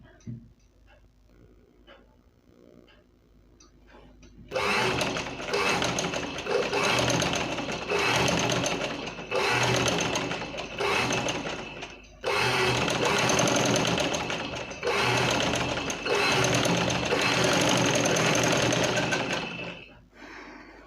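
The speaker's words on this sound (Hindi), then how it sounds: "बस आपकी सिलाई जो है वो ये बुकरम के बिल्कुल साथ साथ आनी चाहिए।" Sewing machine stitching a shirt collar along buckram, a quiet lead-in and then a loud steady mechanical whir running in several long bursts with short pauses between them.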